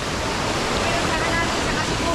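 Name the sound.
rushing water of a cold river waterfall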